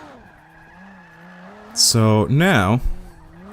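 A car drifting in Forza 5, engine droning low before a loud burst of tire squeal and revving in two strong surges, with someone talking briefly over the game audio.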